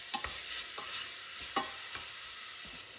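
A spatula stirs sautéed corn with dried parsley, crushed pepper and paprika in a pan. Close scraping strokes come about every half second over a steady, soft sizzle, and no one speaks.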